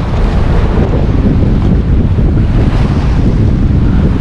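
Strong wind at a rocky seashore fishing spot, a loud continuous roar buffeting the microphone with surf washing underneath, no voices.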